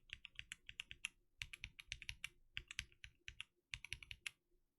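Quiet, close typing on a mechanical keyboard fitted with 400 Year Cream switches, with crisp keystrokes in quick bursts separated by short pauses.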